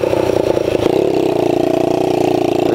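Dirt bike engines, a 125 and a Kawasaki KX60, run close by at a steady idle with a brief rev early on, a continuous loud buzzing drone with no voices.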